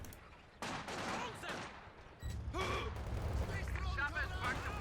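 An artillery barrage in Company of Heroes 2 during a 2v2 match, heard as a series of booming explosions and crackling impacts over a low rumble, fairly quiet overall with a commentator talking through it.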